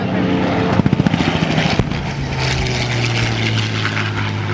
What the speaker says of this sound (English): Now the blue airplane, which I believe is coming over now.